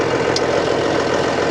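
A tractor engine idles in a steady, loud, continuous drone with an even rumble and no pauses, heard from close by without any talk.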